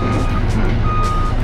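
Reversing beeps from a tractor in a video game, repeated in a steady pattern over a loud engine drone, with a voice talking over them.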